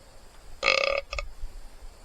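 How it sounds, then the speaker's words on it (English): A single short burp sounds close up, followed by a brief stuttering tail, with no talking. "you know when you like burp and you can't like get the rest of the burp"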